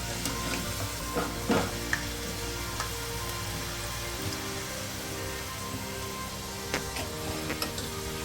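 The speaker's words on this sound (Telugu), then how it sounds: "సిమ్లో మాత్రమే పెట్టి వేయించుకుంటే నిదానంగా ఎగుతుంది బాగుంటుంది" A gentle, steady sizzle of food slowly frying in a pan over a low flame, with a low continuous hum underneath and a few faint clicks and scrapes scattered through.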